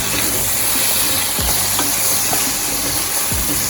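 Saltfish frying in a pan with a splash of vinegar, a steady loud sizzle and hiss with a few soft knocks of stirring, close up and without speech.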